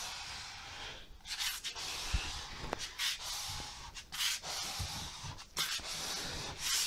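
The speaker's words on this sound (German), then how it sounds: "Und drückt fest mit dem Rakel" A squeegee pressed firmly across a wall decal makes quiet, repeated scraping strokes, each a short rub separated by brief pauses, close by and with no voices.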